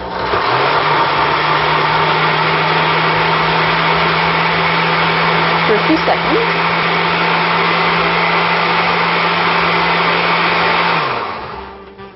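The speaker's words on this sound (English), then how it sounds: "you're going to use it to pulp in your blender" A kitchen blender whirs loudly and steadily for about eleven seconds, pulping torn paper and water into mush for homemade seed paper, then winds down at the end.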